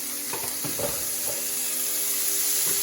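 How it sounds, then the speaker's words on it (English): Bacon sizzles in a pan as its fat renders for spaghetti carbonara, a bright continuous hiss with faint crackles and occasional light knocks, close and steady without speech. "I'm going to get my bacon in the pan"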